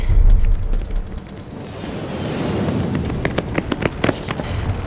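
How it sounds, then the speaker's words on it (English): Cluster bomb explosions in a film, a rumbling opening blast followed by a sustained roar and a rapid run of sharp cracking detonations toward the end, loud and without speech. "Cluster bombs."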